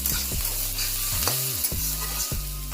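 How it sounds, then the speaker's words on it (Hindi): Sliced onions fry in a pan while being stirred, a close, steady sizzle broken by several scraping strokes of a spoon. "प्याज ऐड करने के बाद इसे मैं अच्छी तरह से भूनूंगी।"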